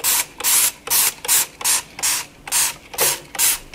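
A spray bottle of Dawn Powerwash dish cleaner is pumped about ten times in a quick, even rhythm, each spray a loud, close hiss with brief gaps between.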